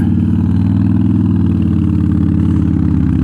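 A Harley-Davidson Dyna motorcycle engine runs steadily while riding, a loud, close, throbbing low rumble that holds constant throughout without speech.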